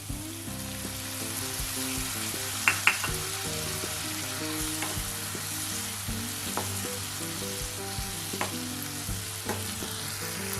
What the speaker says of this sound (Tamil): 2 நிமிஷம் மசாலாவோட நல்லா மிக்ஸ் ஆகட்டும்